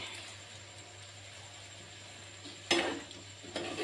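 Vegetables with sweet potato, Malabar spinach and nuts sizzle steadily as they fry in a pan, with a louder stirring scrape near the end and another brief stir just after.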